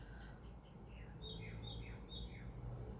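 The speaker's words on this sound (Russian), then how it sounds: "У нас вон птички поют." Several birds chirp and tweet outdoors in Nazareth on a cool, windy day, with short, repeated calls over a steady low rumble of wind.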